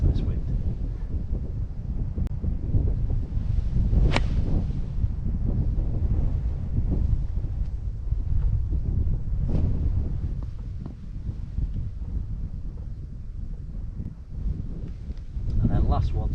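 Wind gusts across a golf course, buffeting the microphone with a continuous low, rumbling roar that swells and dips slightly over the whole stretch.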